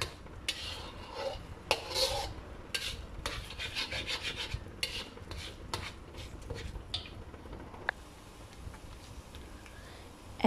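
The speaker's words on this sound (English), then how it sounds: "We mix the eggs up." Eggs are mixed in a pan for fried rice noodles (kuey teow goreng), with faint, irregular scraping and rubbing strokes of a utensil against the pan, quiet and close, with no talk.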